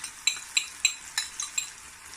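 A spoon stirs ginger, garlic and softened onions frying in a pan for a vegetable curry, giving six evenly spaced light metallic clinks over a soft, close sizzle.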